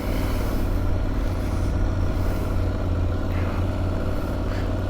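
Aprilia Tuareg 660 motorcycle with its stock exhaust, heard from the rider's position as a steady, loud engine drone with continuous wind and road noise and no talking.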